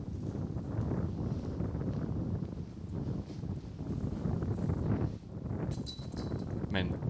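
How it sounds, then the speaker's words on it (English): Wind roars through a forest on a disc golf course in Sweden, a steady broadband rush buffeting the microphone with gusts rising and falling throughout, close and loud, with voices faintly present. "Man, the wind is ripping through these woods."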